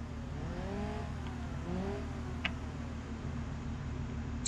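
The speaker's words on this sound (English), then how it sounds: "Why are you revving like that?" A car engine idles and revs in the BeamNG Drive driving game, a steady low drone with a couple of rising and falling rev sweeps and a faint tick, heard alone without talk.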